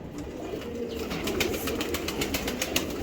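Racing pigeons in a loft coo softly with occasional wing flaps, a low continuous murmur of several birds close by, with no talking.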